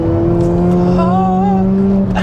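A Mazda RX8 rotary-engined car on its first drive hums with a loud, steady engine note, a higher tone briefly wavering midway as it pulls along.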